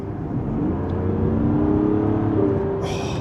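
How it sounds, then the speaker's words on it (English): Mazda CX-80 six-cylinder engine giving a steady, smooth thrum while driving, heard as a low sustained drone from inside the car, with a brief higher whir near the end. "It gives you a wonderful 6-cylinder thrum."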